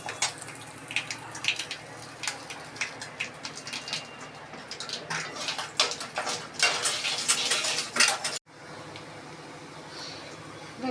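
Onions sautéing in a pan with cumin, urad dal, turmeric and asafoetida for pitla, giving a steady crackling hiss with frequent clinks and scrapes of a utensil against the pan, close and fairly loud.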